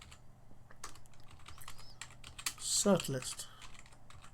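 Quick, light clicks of typing on a computer keyboard, soft and close, with a brief burst of speech partway through.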